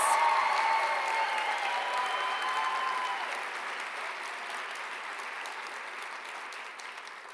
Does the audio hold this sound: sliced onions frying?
no